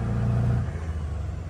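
A European semi truck with a manual clutch pulls away from a stop, its deep engine rumble loud and steady, swelling at first and then settling into a lower drone.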